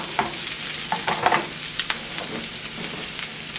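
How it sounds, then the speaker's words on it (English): Peppers and bacon fry in bacon fat in a pan, a continuous close sizzle with scattered crackles and a few stirring scrapes, no talking. "Equal parts pepper, equal parts bacon. In bacon fat."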